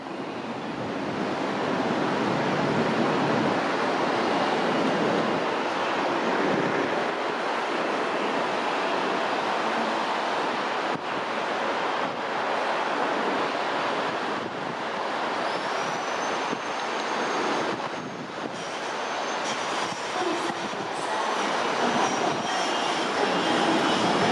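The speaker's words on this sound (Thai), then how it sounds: "มาแล้วขบวนสิบนะครับ" Thai passenger train number 10 from Chiang Mai, running hours late after a derailment, approaching a station from afar with a steady broad rumble and wheel roar that slowly builds, faint high squeals near the end.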